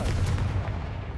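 A dull, heavy boom from the Confringo blasting spell in Hogwarts Legacy, a single low rumbling explosion that fades quickly.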